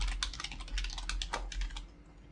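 A quick run of keystrokes on a computer keyboard while a new password is entered at a Microsoft Office 365 sign-in, close and crisp, tapering off near the end without any speech.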